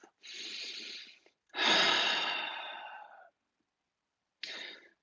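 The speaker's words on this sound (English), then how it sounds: "Take a big deep breath." A deep breath taken during a guided meditation, with a long audible inhale and a drawn-out exhale close to the mic, followed by the start of another breath, in near silence.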